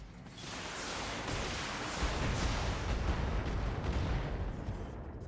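Mech weapons in BattleTech fire at an enemy's right torso, a sustained rumbling barrage of blasts and explosions, moderately loud and continuous, building slightly before easing off.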